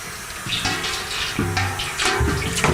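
Hot water runs from a tap into a brewing pot for a milk stout mini mash, a steady splashing gush with a few clunks and shifts in pitch as the pot fills, close and fairly loud.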